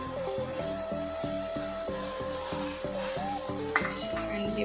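Mint leaves being stirred into sizzling paneer tikka biryani masala with garam masala in a hot pan, a steady low sizzle with soft rhythmic scraping under faint music.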